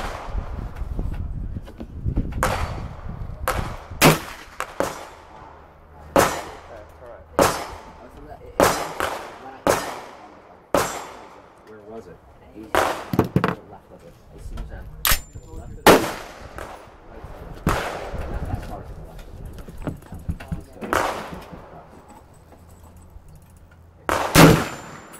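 Gunshots at a shooting club ring out in a steady series of loud, sharp cracks over about twenty-five seconds, at irregular intervals, with range commands and voices heard between the shots.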